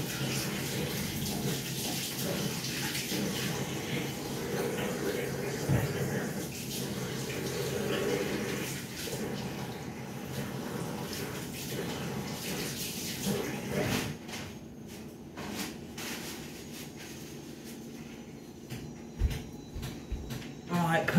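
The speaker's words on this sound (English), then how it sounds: "Right, I'm going to wash my hands quick." Water runs steadily from a kitchen tap for a while, splashing as hands are washed under it while cooking a roast dinner, then stops with some clatter; a voice talks over it.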